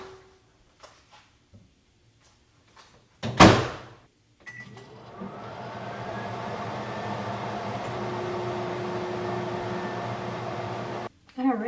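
A microwave oven heats corn on the cob, about four minutes per ear: a thud as the door shuts, then a steady, even electric hum that runs for several seconds before cutting off abruptly.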